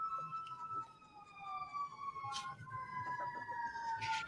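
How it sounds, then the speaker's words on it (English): Emergency vehicle sirens wail past a house bordering a main street, heard faintly from outside as rising and falling tones with a low background hum. "You hear those sirens?"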